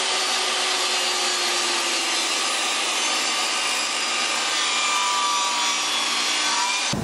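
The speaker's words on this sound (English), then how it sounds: "we set the blade to 35 degrees, we line up the depth, get my push block, I'm going to hold it here. Push and cut." A table saw cuts a 35 degree bevel along a piece of wood, a loud continuous whining rip that holds steady for about seven seconds, close up, with no talking.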